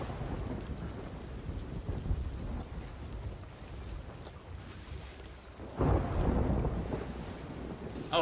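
Storm in a pirate ship video game, with steady rain and low rolling thunder rumbling throughout and a heavier thunder surge near the end, mostly free of talk.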